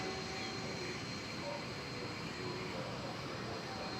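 A Boeing 777 airliner dating from 2000 at DFW Airport produces a steady, broadband jet engine roar heard from a distance, continuous and even in level, with no one talking.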